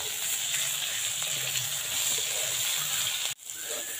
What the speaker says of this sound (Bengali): এটা কিন্তু এইভাবে ভাজতে লাগবে একদম লাল লাল করে